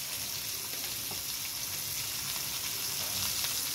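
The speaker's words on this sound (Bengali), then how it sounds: "এগুলো ভালো করে ভেজে নেব" Onions frying in a pan for a mung dal and winter vegetable egg dish, a steady close sizzle that holds at an even level throughout with no talk.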